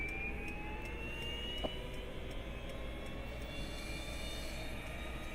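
Bell 222 air ambulance helicopter engine spooling up during startup in X-Plane 11, a steady turbine whine with rising high tones, even and sustained, with a faint click partway through.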